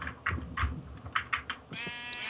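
Sheep in the Minecraft video game give several short, clipped bleats in quick succession, fairly close and moderately loud, followed by a brief electronic tone.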